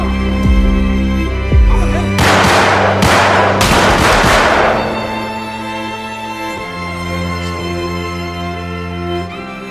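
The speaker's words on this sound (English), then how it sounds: "Seconds later, Yasui fires at Izumi, but Tsukunaga takes the bullet for her." Gunfire rings out in a yakuza action film shootout, a quick cluster of loud sharp shots in the first few seconds over a sustained musical score that carries on alone afterward.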